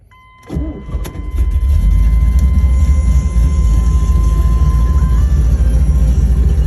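A 1978 Corvette V8 engine cranks and fires up after a brief quiet moment, then settles into a loud, deep, steady rumble close by, with a faint electronic tone.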